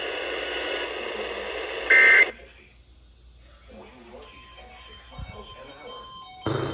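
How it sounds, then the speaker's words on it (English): Brief loud weather radio warning alarm test tone bursts out, then cuts to quiet static and faint broadcast chatter, with another short tone burst at the end. "this is the routine Wednesday morning test of the Weather Radio warning alarm system."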